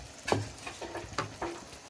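Vegetables frying in a pan for chicken macaroni: a steady low sizzle broken by several distinct scraping stirs, close and moderately loud, with no voices.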